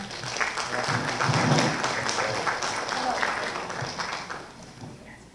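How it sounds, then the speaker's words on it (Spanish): Conference audience applauding a departing speaker at a legal seminar on criminal procedure, a dense wash of many hands clapping at moderate volume, steady then tapering, with voices murmuring underneath. "la despedimos con fuertes palmas"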